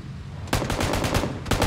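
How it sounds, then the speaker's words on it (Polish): Automatic gunfire from the battle royale game PUBG breaks out in a loud, close, rapid burst of shots that continues to the end after a brief quieter lead-in. "O, i już jest strzelanie."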